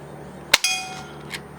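Umarex NXG air pistol pellets striking a metal target: a sharp crack followed by a bright, ringing metallic ping that decays over about half a second, then a fainter second ping, close and loud against quiet background.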